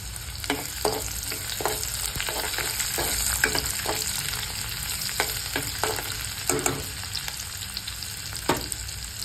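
Chopped onion sautés in a pan with a steady sizzle. A spoon scrapes and stirs again and again, each stroke clear and close, through the whole stretch.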